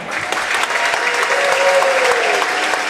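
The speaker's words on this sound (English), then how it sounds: "How about a big round of applause for you 2005 Triway Titans." Basketball crowd applause honoring a 2005 high school team at a boys' game, a dense, steady burst of clapping from a gym audience, loud and continuous throughout.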